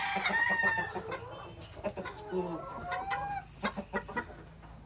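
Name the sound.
chicken clucking, hen about to lay an egg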